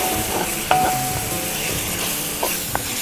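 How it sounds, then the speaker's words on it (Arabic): Red bell peppers hit onions frying in a pan, giving a loud steady sizzle with occasional stirring scrapes and a light clink, close and without any talking. "ادي البصل، خلوني انزل عليه الفلفل الالوان، الفلفل الرومي الاحمر"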